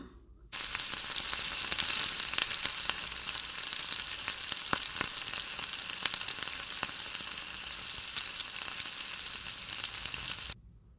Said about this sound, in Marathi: आता कढईत तेल गरम करायला ठेवून त्यात एका वेळी तुम्ही 7 ते 8 बॉल्स तळून घेऊ शकता